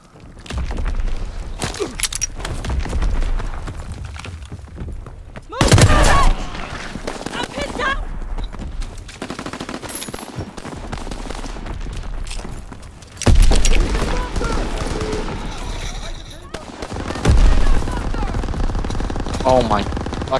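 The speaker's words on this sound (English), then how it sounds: "machine gun" Machine gun fire in Call of Duty: World War II, loud sustained bursts of rapid shots with heavier booming volleys breaking in, a player talking over the din.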